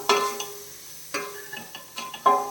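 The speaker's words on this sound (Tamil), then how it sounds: "ஒரு தக்காளி கட் பண்ணி வச்சுருக்கிறேன் அதை இதில் சேர்க்குறேன் நல்லா வதக்கிடலாம்" Chopped tomato sautéing in a pressure cooker for chicken biryani, soft sizzling broken by a few sharp scrapes and clinks of a spoon against the pot at irregular intervals, close and fairly quiet.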